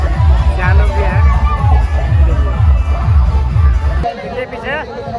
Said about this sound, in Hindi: और बहुत ज़्यादा भीड़ है इधर